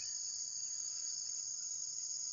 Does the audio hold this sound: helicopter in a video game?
no